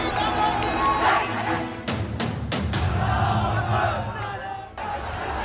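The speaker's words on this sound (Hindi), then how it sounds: "जालौरी गेट के इसी चौराहे पर फिर से भीड़ जमा होने लगी।" A dense crowd massing at the Jalori Gate crossroads after Eid prayers gives off a steady roar of many voices, with a few sharp thuds standing out.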